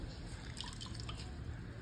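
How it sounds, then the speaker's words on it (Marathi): Water dripping and trickling as soaked bread slices are squeezed by hand while making bread pakoda, a steady soft wet patter close by with no talk. "असं मी पाण्यात भिजवून घेणार आणि त्याचं पाणी असं पिळून काढणार"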